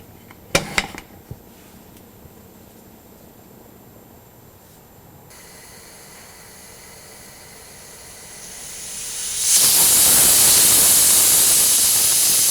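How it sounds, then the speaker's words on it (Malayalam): A pressure cooker cooking mutton stew: a few sharp metallic clinks, a steady low hiss, then a loud, sustained whistling rush of escaping steam building near the end. "ഇനി ഇത് അടച്ചു വെച്ച് 5 വിസിൽ കേൾക്കുന്നത് വരെ മീഡിയം ഫ്ലെയിമിൽ കുക്ക് ചെയ്യുക"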